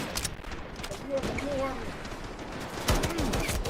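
Gunfire in the Delta Force video game, with a faint, continuous crackle of rapid shots in the background while someone talks over it in Thai.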